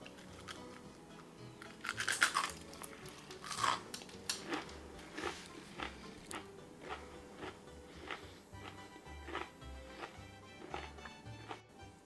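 Someone bites and chews crunchy homemade onion rings close to the mic, giving several crisp, irregular crunches that are loud at first and then keep up more softly, with no talk.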